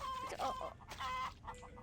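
A chicken clucks in a video game in short, close, repeated calls, a few clucks bunched together and then a brief pause before more follow.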